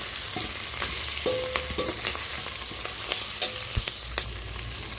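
Diced carrots and potatoes fry in oil in a pan, giving a steady close sizzle with scattered sharp scrapes and clinks as a spatula stirs them, no voices over it.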